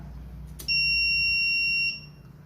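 A shrill electronic buzzer sounds a single steady high-pitched tone for just over a second, then cuts off over a faint hum.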